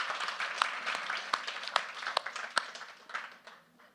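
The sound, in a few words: audience applause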